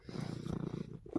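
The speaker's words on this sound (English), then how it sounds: "Oh my goodness, he does not stop purring." A cat's low, steady purr rumbles close and quiet in rhythmic pulses, fading briefly near the end before resuming.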